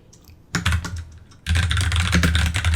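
Typing on a computer keyboard while writing a note in a note-taking app: a brief patch of keystrokes, then a short pause, then dense, fast, close clicking that runs on steadily, with no talking.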